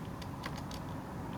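A few quick, faint taps of buttons on a calculator as numbers are entered, a short irregular burst of clicks over a steady background hiss.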